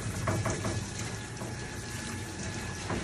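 Water sprays and runs steadily as a dog gets its final rinse during a bath, a soft, continuous splashing hiss with a few brief surges.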